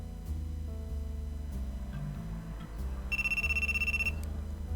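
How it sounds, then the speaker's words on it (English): An electronic telephone ringtone sounds in a visual novel set in a worn-down apartment, repeating bright trilling rings over a low background music bed, loud and close, with no talk. "The phone rings."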